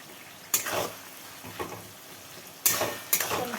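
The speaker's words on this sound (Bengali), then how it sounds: "পেঁয়াজটা ভাজা হয়ে যাক" Chopped onion with a pinch of salt sizzles in a pan, the quiet frying punctuated by a few sharp scraping stirs and clanks of a spatula; no talking.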